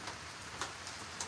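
Steady rain falls outdoors in wet weather, a faint, even hiss with occasional soft drop taps, heard alone with no voices.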